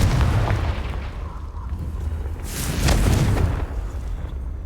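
A Confringo blasting spell goes off in Hogwarts Legacy as a deep, rumbling explosion, loud and near, with a sustained roar that swells again partway through.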